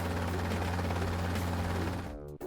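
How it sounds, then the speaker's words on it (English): A cartoon helicopter's rotor chops in a steady, loud, dense whir with a low engine drone beneath, cutting off abruptly near the end. "H. Helicopter."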